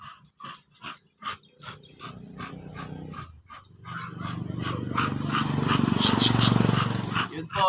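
A muzzled American bully dog pants in quick rhythmic bursts close by, then breaks into a louder, rougher sustained growling strain, with people talking over it.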